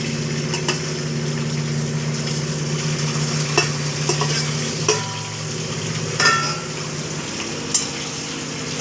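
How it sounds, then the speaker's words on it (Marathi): Paneer frying in oil in a pan, a steady close sizzle with a low hum underneath and occasional clicks and scrapes of a utensil. "पनीर मटरसाठी मी अगोदर पनीर तेलामध्ये फ्राय करून घेणार आहे."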